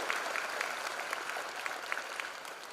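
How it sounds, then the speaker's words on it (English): Loud applause from an audience at a freshers' induction programme, filling the whole stretch as steady, dense clapping with scattered sharper claps and no voices over it. "a loud applause"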